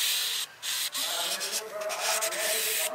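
Sandpaper rubs steadily along the trailing edge of a Levitaz hydrofoil, a continuous close, loud abrasive scrape with brief pauses between strokes.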